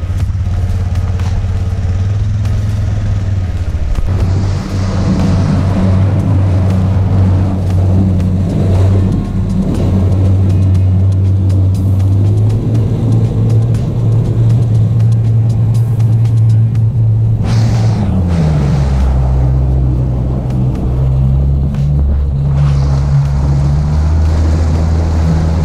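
A Mercury 4-stroke 200 Pro outboard motor runs steadily on a walleye fishing boat, a smooth low hum throughout with a brief pitch shift near the end as the throttle changes, no talking.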